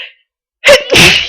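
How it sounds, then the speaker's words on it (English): A single sharp human sneeze: a brief indrawn breath, a pause, then an explosive burst of air, loud and close. "I'm gonna sneeze again."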